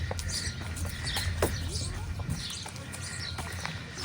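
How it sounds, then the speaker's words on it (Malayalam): Horse hooves clip-clopping on a farm, mixed with faint birdsong and a steady low rumble, under a busy outdoor background. "ഇതായിരിക്കും ഹോഴ്സ് റൈഡ് എന്ന് പറയുന്നത് കേട്ടോ."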